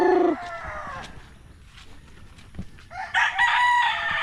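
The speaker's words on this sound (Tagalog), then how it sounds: "Yun yung pinakamalaki nating manok" A white bantam rooster crows loudly and close on a farm, then after a quieter stretch with faint clucking, a second bird crows, bright and strained.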